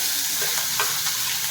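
Cumin seeds, a piece of cinnamon and cardamom pods fry in hot oil in a kadai, giving a steady close sizzle with a few brief stirring scrapes and no talk.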